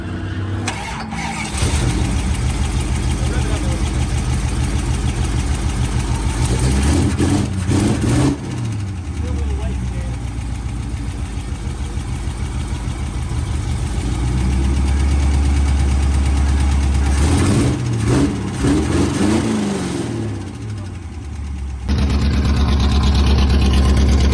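A 383 V8 in a Plymouth Barracuda starts and runs with a loud, steady rumble. It revs up and drops back a few times, then cuts out briefly before firing up again near the end.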